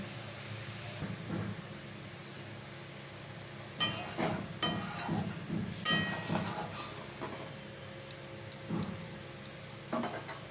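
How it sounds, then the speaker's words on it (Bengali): Pabda fish and eggplant go into a boiling home-cooked curry, giving a cluster of splashy sizzling bursts and stirring clatter over a steady low simmer, with a few sharper scrapes near the end; no one speaks. "ঝোলটা ভালো মতন ফুটে গেছে এবারে আমি মাছ আর বেগুনটা দিয়ে দিচ্ছি"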